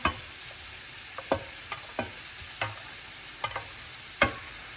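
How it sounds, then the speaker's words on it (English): Chopped meat and stock frying in a pan for a Tiroler Gröstl, a faint even sizzle punctuated by about eight soft knocks and scrapes of a spoon spaced a second or less apart, no voices. "You want to add that to the pan."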